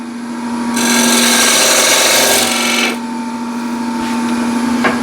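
A woodturning lathe hums steadily while a ball gouge bites into the spinning wood of a trinket box, making a loud scraping cut for about two seconds before the tool lifts away and the motor keeps droning.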